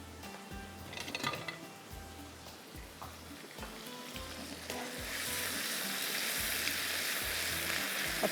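Curry leaves, mustard seeds and nigella seeds tempering in hot oil for a tarka, crackling and sizzling close by with a few clinks of a pan early on, the sizzle swelling to a dense, steady hiss in the second half.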